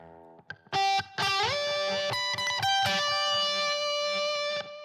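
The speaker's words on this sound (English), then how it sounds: "First one is heavy distortion with some delay." Electric guitar through a heavy distortion preset with delay, playing a lead part for a song: loud, sustained distorted notes with bends and short picked phrases ringing out alone.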